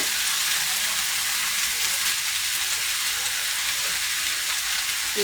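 Salted vegetables and greens fry in a pan with a loud, continuous hiss, a dense crackling sizzle that runs close and steady from start to end.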